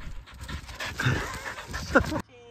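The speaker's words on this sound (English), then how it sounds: "This is Jax, Mark's dog from the last Derbyshire Minor." A dog pants rapidly and breathily up close, with a brief whimper near the end before it cuts to quiet.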